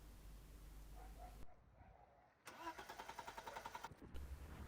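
A BMW E30 325i engine cranks over with its fuel pump disabled after sitting for three years, heard as a rapid even whirring churn from the starter for a couple of seconds, close by, after quieter background noise.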